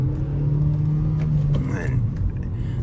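Continuous low engine hum and road rumble inside a moving Hyundai Veloster Turbo with a manual gearbox, steady and close, with a voice talking over the drone.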